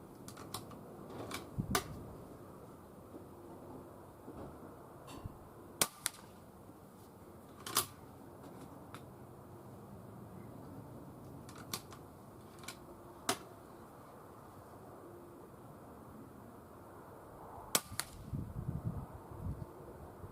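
A Weihrauch HW100 air rifle fired at a 35 m target on a very windy day, heard as a few sharp, close cracks spread well apart against a soft, steady background.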